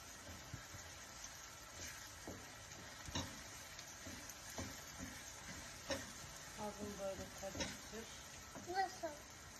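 Tomato and pepper paste sizzles in oil in a pan for kısır, with soft scraping stir strokes and small clatters under a steady hiss, while people talk nearby.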